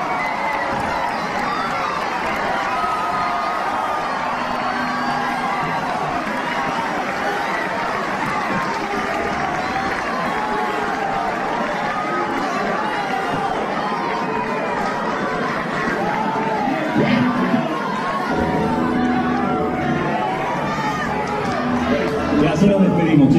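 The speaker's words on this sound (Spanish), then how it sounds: "No sin antes darle un merecido aplauso" Audience cheering and applauding for a musician about to play a cover at a technical college, a steady, dense crowd roar with chatter and shouts throughout, swelling slightly near the end.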